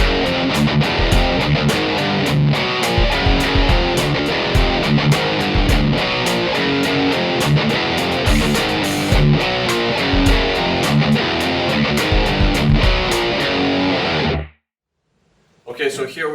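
Heavily distorted metal electric guitar plays the break of a song, loud and dense with choppy rhythmic chugs and chords, then cuts abruptly to near silence before a faint final burst.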